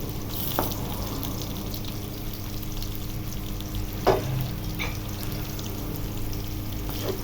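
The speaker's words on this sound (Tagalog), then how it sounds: "pwede na nating igisa yung ating pagi na meat" Stingray meat sautéing in a pan, a steady close sizzle with scattered sharp clinks and taps of a utensil against the pan.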